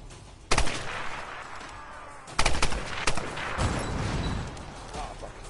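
Gunfire in Tomb Raider Definitive Edition: a few sharp loud shots, one early and a cluster around the middle, over a background of game ambience and rumble.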